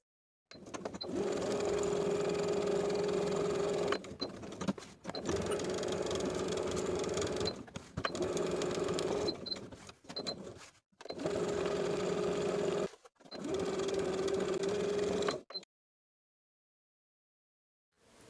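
A sewing machine runs in five steady bursts with short pauses between them, edge stitching and then top stitching a back pocket on relaxed barrel leg pants. The hum is close and even, and it falls silent at the end.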